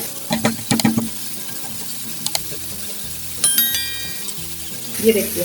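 Lahori-style chicken frying on a hot tawa griddle as street food, with a soft sizzle under scraping and stirring clinks and a few sharp taps, while someone speaks briefly.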